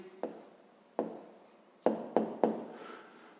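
A pen scratches on paper in five short, separate strokes, close and fairly quiet, as a maths answer is written out by hand. Nobody speaks over it.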